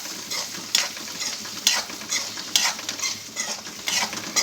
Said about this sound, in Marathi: आपल्याला बटाटे घालायचे मेथी चांगलं हलवून घ्यायचं मस्तपैकी